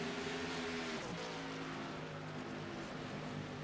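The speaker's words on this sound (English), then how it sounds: "These drivers step on the loud pedal, and we are green flag racing here at Atlanta." Race cars in an ERSA Pro Series event roar off at the green flag at Atlanta Motor Speedway, a dense overlapping drone of engines revving and climbing in pitch, heard from a distance at steady volume.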